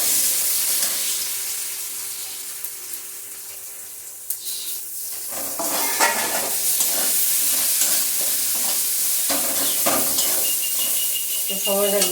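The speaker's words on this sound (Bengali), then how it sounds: "কড়াইয়ের মধ্যে দিয়ে দিয়েছি সাদা তেল, ডালটা দিয়ে দিচ্ছি।" Lentils are dropped into white oil in a wok, a steady frying hiss that swells louder after a few seconds as stirring clatters and scrapes join in, close and continuous.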